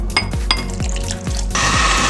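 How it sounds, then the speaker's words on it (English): Water pours from a cup into an Instant Pot holding beef birria ingredients and apple cider vinegar, giving a close, loud splashing gurgle that ends in a steady rushing stream. "We're also gonna add 1/2 cup of water."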